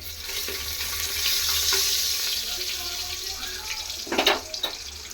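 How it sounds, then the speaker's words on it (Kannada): Stone flower, pepper and cloves fry in a little oil for a vegetable pulao, a soft hissing sizzle that swells and fades, then a few louder clattering scrapes near the end, close by and with no talk. "ಕಲ್ಲು ಹೂವು, ಮೆಣಸು, ಲವಂಗ ಸ್ವಲ್ಪ ಎಣ್ಣೆಲಿ ಫ್ರೈ ಆಗಲಿ"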